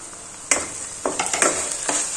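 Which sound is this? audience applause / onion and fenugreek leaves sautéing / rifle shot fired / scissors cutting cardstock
onion and fenugreek leaves sautéing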